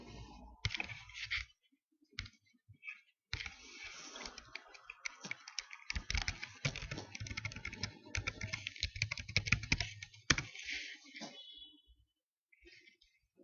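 Fingers tap out a user ID and password on a computer keyboard, bursts of quick, light key clicks with short pauses between them, close and fairly quiet.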